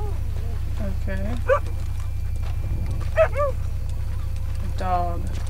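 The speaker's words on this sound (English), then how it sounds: "There's a dog in here." A dog whimpers and yips in Red Dead Redemption 2, in a Saint Denis setting, with a few short, high, whining cries spaced out over a steady low in-game hum.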